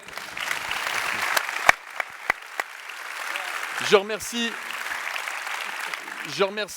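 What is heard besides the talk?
audience applause for the speakers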